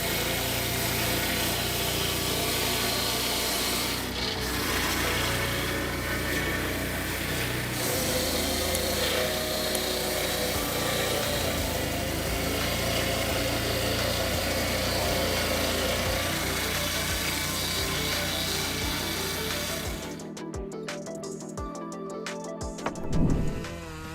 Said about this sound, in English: The resounding sound of the Husqvarna 3120 XP chain saw makes us admire the power it brings.